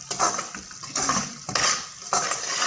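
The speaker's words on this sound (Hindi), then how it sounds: "ये सूजी की भुनाई हो रही है।" Semolina being roasted in desi ghee for suji halwa, with a spoon repeatedly scraping and clattering against the pan in four or five distinct strokes over a soft sizzle.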